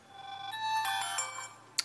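A ringtone plays from a Motorola Atrix 4G phone, a bright chiming tonal melody of sustained harmonic notes lasting under two seconds, ending with a short sharp click, with no voices over it.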